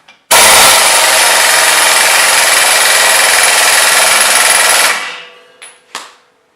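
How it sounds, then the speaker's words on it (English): A pneumatic impact tool driven by an air compressor hammers at a stuck part during clutch work, a loud continuous rattling burst of about four and a half seconds that cuts off, followed by a couple of brief faint clanks. "now that the air compressor has some air"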